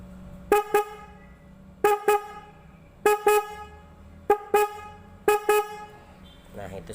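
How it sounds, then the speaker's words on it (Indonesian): A Mitsuba Japan bakpao-style horn on a GL100 motorcycle honks in five paired bursts, each a loud, bright, nasal double toot with short gaps between, ending with a brief voice. "mari kita lihat atau dengarkan satu persatu bunyi klaksonnya"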